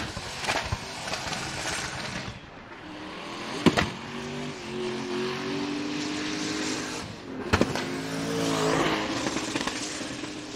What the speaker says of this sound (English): Listen to this thing, pop and bang.